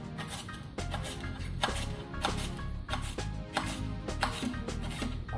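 A knife chops vegetables on a cutting board while making a simple raw kale salad, with sharp, evenly spaced knocks close up, about one each second, over a steady low background.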